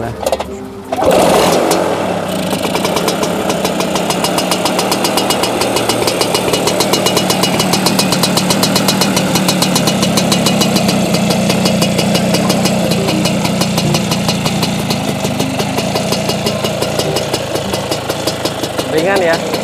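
A 1989 Vespa PS Strada scooter, bored to 180cc, kicks into life after a brief start, then idles loudly and steadily with a rapid, even engine beat; voices talk over it.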